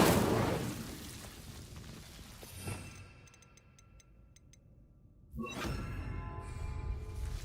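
The Incendio fire spell in the video game Hogwarts Legacy: a whooshing burst of flame flares up, fades into quiet with faint ticking, then a second rushing fiery surge swells and keeps crackling to the end.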